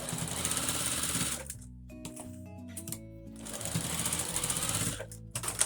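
A sewing machine runs in two loud, steady bursts while stitching the stressed elastic seam of a fabric face mask, with a quieter pause of lower mechanical humming between them.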